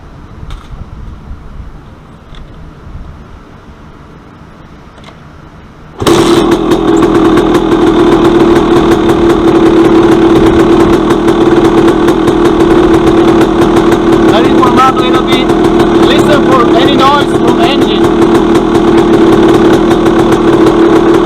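A used dirt bike on a stand starts abruptly after a quiet stretch, then settles into a loud, steady idle with a constant buzzing tone that holds to the end.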